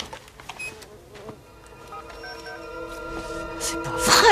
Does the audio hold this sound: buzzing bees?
yes